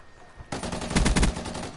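A Nerf gun firing in a video game, heard as a sudden burst of rapid, close shots that rattle on for over a second after a quiet start.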